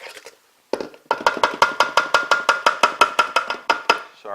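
Two very ripe bananas mashed in a bowl, heard as a quick, steady series of about twenty sharp tapping strokes close by, after a couple of isolated knocks.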